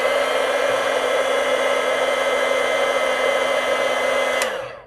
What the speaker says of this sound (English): I'm just going to heat set this corner just a bit more